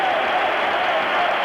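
A Roma football crowd applauding at half-time of a European Cup match against Dundee United: a dense, steady wash of clapping and crowd noise from a large stadium.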